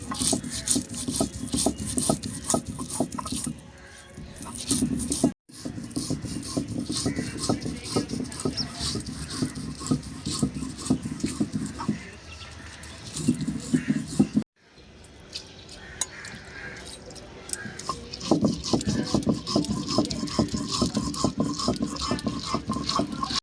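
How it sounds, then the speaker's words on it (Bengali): Soaked parboiled rice ground with a little water into a fine paste for Bengali chitoi pitha, a steady rasping, rubbing grind that runs continuously at close range with two brief breaks. "একটু জল দিয়ে বাটবো"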